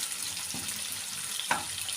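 Chopped onion, red pepper and green pepper sauté in a pan with a faint, steady sizzle and a couple of soft stirring clicks.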